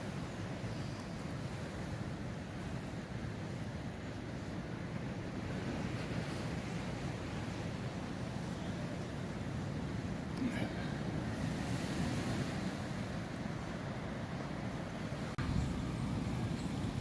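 Waves wash onto a Caribbean beach in the Dominican Republic in a steady surf roar, with wind buffeting the microphone throughout and no clear talk.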